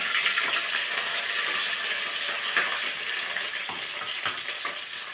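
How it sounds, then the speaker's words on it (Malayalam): Ginger, green chili and garlic fry in hot oil after mustard seeds have popped, producing a steady close-up sizzle broken by occasional stirring scrapes, with no voices. "കടുകിട്ട് പൊട്ടി കഴിയുമ്പോൾ ആദ്യം ഇഞ്ചിയും പച്ചമുളകും പച്ച ഇഞ്ചിയും വെളുത്തുള്ളി ആദ്യം ഇടുക"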